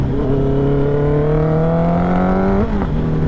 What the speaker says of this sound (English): there's no point in me doing an exhaust video because you can hear plenty